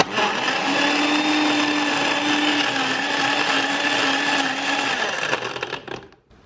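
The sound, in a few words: blender blending protein powder, PB2, banana, ice and almond milk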